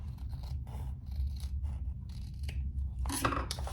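Fabric scissors snip and slice through fabric for a leather pouch in a series of quick, close crisp cuts, each followed by a soft rasp, with no talking.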